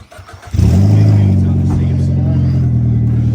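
A Mitsubishi Evo with new coils, carrying four people, fires up and pulls away loudly, its engine rising into a strong, steady drone after a brief quiet start.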